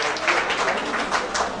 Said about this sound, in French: on applaudit le ministre Lamine Kilierou.